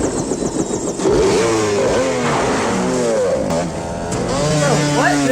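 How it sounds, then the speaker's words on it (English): Dirt bikes chase through a 1990 Captain America film scene, with engines revving and whining in rising and falling pitch sweeps, close and loud, mixed with a voice talking over the action. "Captain America escapes the evil supermodels on dirt bikes"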